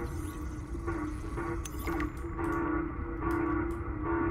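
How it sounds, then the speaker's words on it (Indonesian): Distress call transmission in Subnautica Below Zero: a steady electronic tone with warbling, fax-machine-like chirps and bursts over a low rumbling ambient bed, moderately loud and continuous. "That sounds like a distress call."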